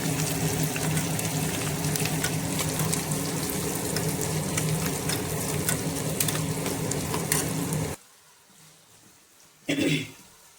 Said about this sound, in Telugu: వెల్లిపాయలు, కరివేపాకు వేస్తాను. ఇవ్వండి ఇంగువ వేసేస్తాను.